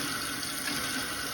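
Water running steadily from a camper faucet while the hot water heater is purged of sediment during de-winterizing, a continuous broadband hiss with no voices.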